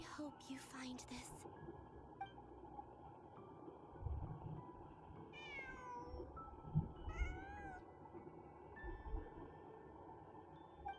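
A cat in the Genshin Impact game gives a couple of short meows midway through, moderately close, over a quiet ambient bed, after a brief voice at the start.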